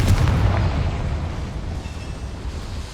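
A Confringo explosion spell going off in Hogwarts Legacy: one deep, loud boom that rumbles heavily at first, then fades into a long, low, decaying roar.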